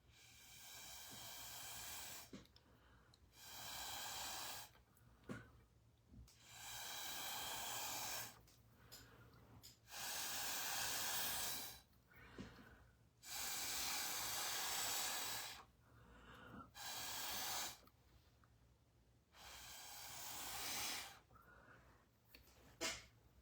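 Repeated long puffs of breath blown across India ink drops on paper make a hissing rush, coming in about eight sustained bursts separated by short pauses, close and fairly quiet.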